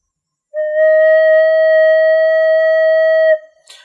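A single sustained flute note, steady and clear, held for about three seconds before stopping abruptly.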